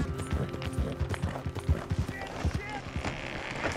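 Horse hooves galloping in Red Dead Redemption 2, a quick, uneven clip-clop rhythm close by, with someone talking over it.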